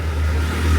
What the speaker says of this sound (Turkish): Pazarın ortasından otobüs geçiyor ya. Şu kadar büyük bir otobüs geçiyor.